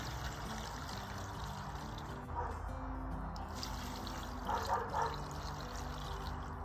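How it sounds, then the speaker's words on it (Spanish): One litre of water is poured into a cooking pot for sweet potatoes, a faint steady trickle and splash running continuously under low background noise, swelling slightly near the end. "Le voy a agregar el agua."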